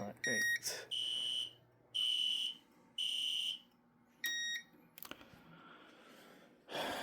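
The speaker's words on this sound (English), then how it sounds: "System Sensor makes some really good smoke detectors." A System Sensor smoke detector on an EST Fireshield FS1004 fire alarm system sounds in loud, repeated high-pitched beeping bursts of about half a second, with clicks and a brief faint voice between pulses.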